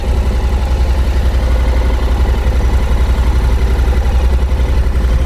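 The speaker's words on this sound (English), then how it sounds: "I'm just idling it forward because," A car engine idling as the car creeps forward at walking pace, giving a steady, loud, low rumble that never changes or revs.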